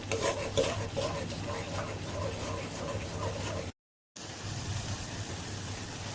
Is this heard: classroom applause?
no